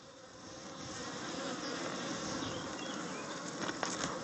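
Honeybees buzz around an opened Kenyan top-bar hive during an inspection, a soft continuous drone of many insects with a few faint knocks and taps near the end.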